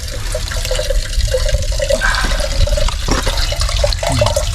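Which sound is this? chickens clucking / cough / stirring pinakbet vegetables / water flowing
water flowing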